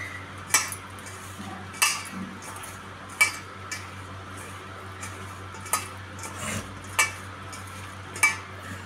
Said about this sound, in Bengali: এগুলো ভালো করে মিক্স করে নেওয়া হচ্ছে।